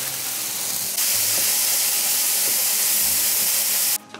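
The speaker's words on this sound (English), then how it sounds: "Let it sear off a little bit on the bottom before I start shaking it around everywhere." Ground lamb sears in a hot pan, a loud continuous sizzling hiss that swells after the first second and cuts off sharply just before the end, with no talking.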